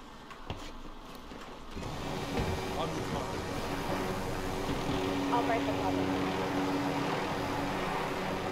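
Helicopter in the video game Call of Duty Modern Warfare, a steady rotor drone that swells in after a couple of seconds and holds, with a player talking over it.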